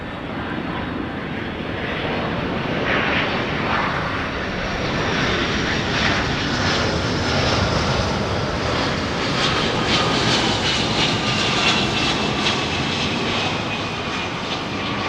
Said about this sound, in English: This would be Delta 382. This is from DCA Ronald Reagan National Airport with a 757.